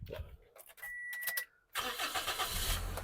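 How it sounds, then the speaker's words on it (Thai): A 2010 Toyota Altis 1.6E starts on the first try: a few clicks and a brief cranking whine, a short pause, then the engine catches and settles into a steady idle, heard close. "สตาร์ททีเดียวติดนะครับผม"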